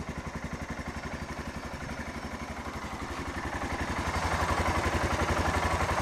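A Yamaha Rhino engine idles steadily with a 1970s Ford alternator bolted on and spinning backwards while charging, giving a fast even mechanical pulse that grows slightly louder toward the end, close and with no talk.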